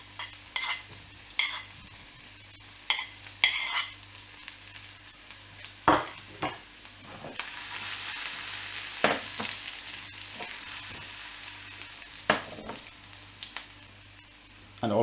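Chopped ginger, garlic and dried chilies sizzle in hot coconut oil, a soft crackle under frequent knocks and scrapes of a spoon, swelling into a louder hissing burst midway before settling back to stirring clatter.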